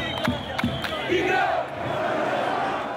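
Crowd of protesters in Algeria calling for President Bouteflika to withdraw his candidacy for a fifth term, chanting and shouting together in a loud, continuous mass, with a few sharp raised cries near the start.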